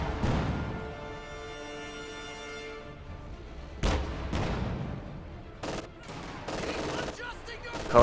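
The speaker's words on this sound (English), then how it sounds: "an AT gun is set up firing at that Puma" In a World War II strategy video game, an anti-tank gun fires on a Puma armored car. Sharp, loud gunshots stand out over a continuous rumble of battle, with a sustained tonal whine early on.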